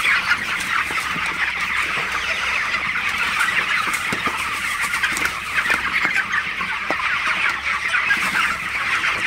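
A crowd of 25-day-old broiler chickens, some feverish, clucking and chattering continuously, a dense poultry-house din with occasional sharper calls standing out.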